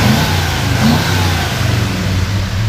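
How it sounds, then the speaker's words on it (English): A 1968 Ford F250 Highboy 4x4 pickup with dual exhaust revs up close, a loud, steady engine note swelling briefly before settling back toward idle, with no talk. "Go ahead and rev it up a little bit."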